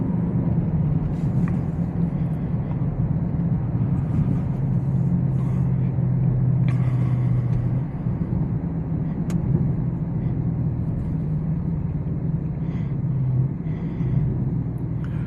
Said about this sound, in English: It's got got some pickup in this twin turbo V8.